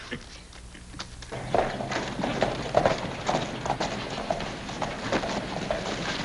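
Horse hooves clip-clop steadily on hard ground in an old Western setting, a close, regular trotting rhythm that starts after a quiet moment and continues to the end.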